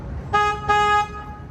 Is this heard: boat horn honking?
yes